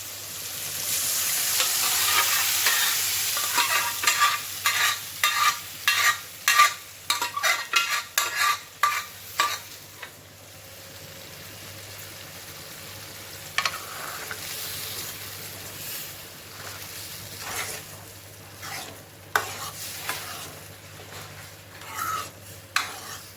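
A spoon scrapes and clatters against a frying pan of lentils in bursts of rapid stirring, with a soft sizzle underneath and quieter pauses between strokes.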